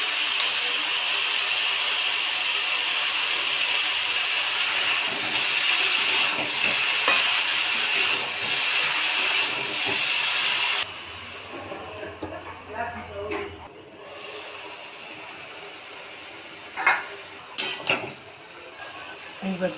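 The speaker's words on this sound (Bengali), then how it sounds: "কড়াই তেলটা গরম হয়ে গেলে তারপরে একটুখানি পাঁচফোড়ন দিয়ে ঝিঙে আলুটা দিয়ে" Ridge gourd and potato hit hot oil with panch phoron five-spice, a loud steady sizzle and hiss with occasional crackles that stops abruptly partway through, leaving quieter clinks and scattered kitchen noise.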